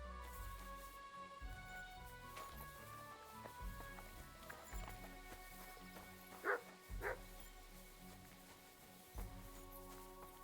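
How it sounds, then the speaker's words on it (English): A dog in Kingdom Come: Deliverance II barks in short bursts among running footsteps and hooves, with scattered yips over a busy background. "you're a very good boy. Come here. Let me pet you. Aye, aye, you silly doggy."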